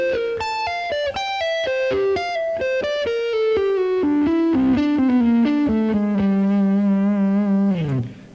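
A distorted electric guitar plays a fast descending run of notes, settling into a sustained bent tone that slides down at the end.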